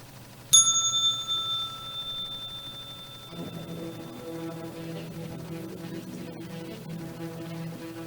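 A single bright bell strikes once at the close of a daily market trading broadcast and rings out clearly before fading over a few seconds, then a soft background tone continues.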